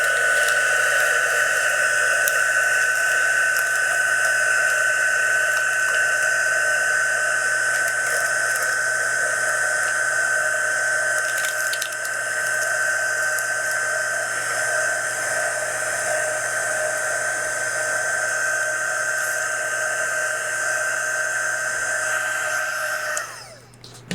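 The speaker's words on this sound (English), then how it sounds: "Now I want to use my heat gun to shrink this down first." A heat gun blows steadily on a sublimation mug to shrink a wrap, giving a continuous loud high whine and airy rush close to the mic for the whole stretch, cutting off at the end.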